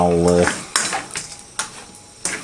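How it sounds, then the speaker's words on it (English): A spoon scrapes and knocks against a pan while cashew nut brittle (chikki) is stirred, giving several distinct metallic taps and scrapes spaced about a second apart, close up, after a brief voice at the start. "So I'm not going to stop stirring"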